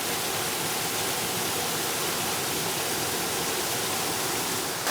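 Jeans Run falls in Lehigh Gorge park roars as a constant broadband rush of falling water, loud and close, unbroken and even from start to finish with no voices over it.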